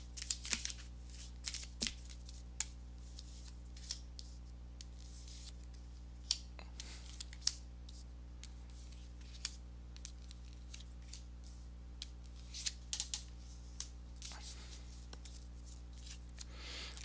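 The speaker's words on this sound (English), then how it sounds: "let me go ahead and give these cards a shuffle" Tarot cards are shuffled close up in repeated soft riffling bursts, crisp papery flicks and rubs coming in irregular clusters over a quiet steady hum.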